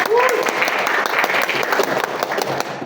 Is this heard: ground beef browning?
no